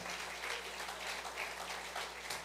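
Congregation applause at a Resurrection Sunday church service, a soft, distant-sounding patter of clapping held evenly over a faint electrical hum.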